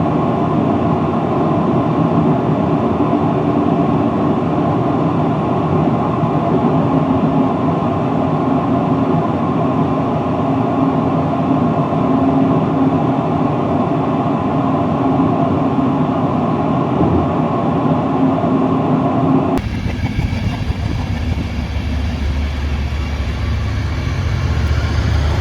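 A train running on rails along the Welsh Marches Line toward Cardiff, heard from the cab as a loud steady rumble and rolling drone that shifts abruptly near the end as it passes a Class 170 Turbostar DMU.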